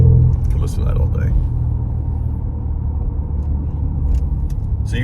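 A 2026 Porsche Panamera GTS engine rumbles steadily at close range, a deep, continuous low growl with slight swells throughout.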